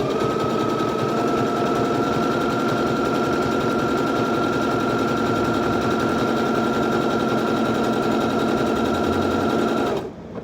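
Sewing machine stitching a circle appliqué, running at a steady fast pace with a constant whirring hum that continues unbroken until stopping abruptly near the end.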